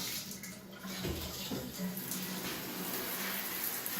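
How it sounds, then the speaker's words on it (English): Shower water fed from a well supply runs steadily, a continuous hiss and splash under brief voices, with a few spurts as air clears from the line. "I mean, it's a good shower."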